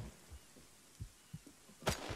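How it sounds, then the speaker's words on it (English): Soft, muffled heartbeat effect from a military video game, a handful of low thumps spaced irregularly over about two seconds, followed by a brief louder burst at the end. "you just like hearing your heartbeat"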